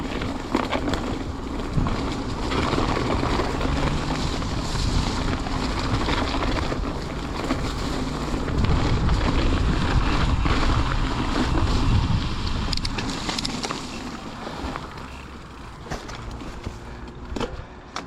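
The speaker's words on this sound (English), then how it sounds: "So this should be very windy." Strong, steady wind roars and buffets a GoPro Hero 8 microphone continuously, with a low rumble that swells in the middle and eases slightly toward the end.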